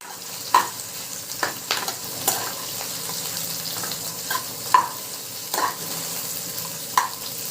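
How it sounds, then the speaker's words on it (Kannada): Onion and green chilies fry in a pan over already-added ginger for a Hassan-style pomfret fish sambar: a steady close sizzle with sharp clicks and scrapes of stirring every second or so, no talking. "ಈಗ ಆನಿಯನ್ ಹಾಕ್ಕೊಳ್ಳೋಣ. ಇದು ಫ್ರೈ ಆಗ್ತಿದೆ."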